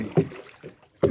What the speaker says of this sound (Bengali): ঋষি বৈঠা চালাচ্ছে, নৌকা চালাচ্ছে।